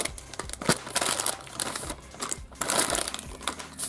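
A crinkly plastic surprise toy packet is torn and opened up close, with steady rustling and crackling bursts running through the whole stretch and no one talking.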